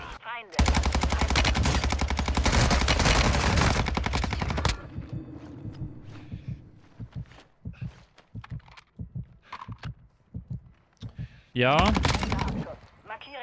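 A Fennec submachine gun firing in a video game on the Vondel map, one long sustained full-auto burst that starts abruptly and cuts off after about four seconds, followed by footsteps, scattered distant shots and a short closing burst, with brief talk.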